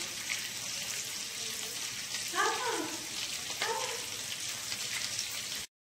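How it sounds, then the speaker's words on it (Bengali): Chicken pieces frying in hot oil make a steady close sizzle, with a couple of brief tonal clatters midway before the sound cuts off abruptly near the end. "এইভাবে আমি বাকি চিকেনগুলো ভেজে নেব।"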